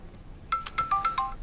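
A mobile phone rings with a tinny electronic ringtone: a short run of bright, repeated beeping tones that pulse quickly and sound fairly close, with no talking.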